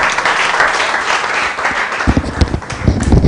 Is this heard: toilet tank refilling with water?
no